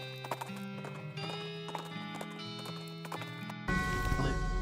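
Horse hooves clip-clop at a steady walking rhythm in the video game West of Loathing, set over layered western music, with a louder shift in the sound near the end.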